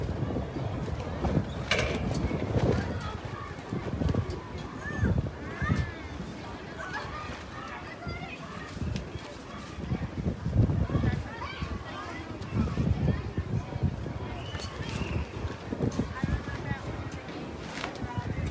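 Wind gusting hard across the microphone at an outdoor youth football game, a loud rumbling buffet that swells and fades throughout, with a commentator talking over it.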